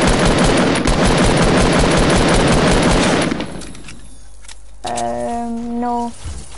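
Rapid automatic gunfire rattles nonstop for about three seconds in a 2v2 Playground match of a shooter video game, then cuts off and gives way to quieter game sounds and short electronic tones.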